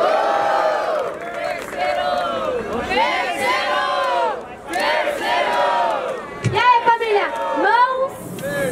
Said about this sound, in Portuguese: Muito barulho à minha esquerda para Nisk